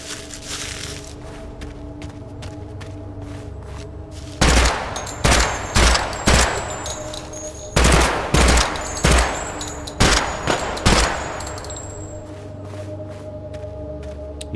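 A 5.56 or .30-06 rifle firing in a Project Silverfish weapons test, with loud, sharp shots coming in quick clusters, each one followed by a brief echoing tail, between quieter stretches of ambience.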